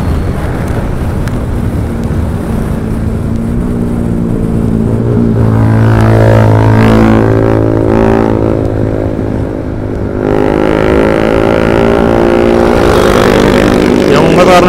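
A Honda Beat motor scooter, still in break-in, hums steadily while riding, with loud wind buffeting the microphone and someone talking over the engine throughout.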